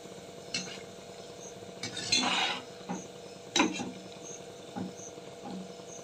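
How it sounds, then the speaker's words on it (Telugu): Shankarpali pieces frying in oil in a pan are stirred, giving a few scattered scraping clinks against the pan over a faint, steady background. "ఇట్లా కలుపుకుంటా కాల్చుకోవాలా"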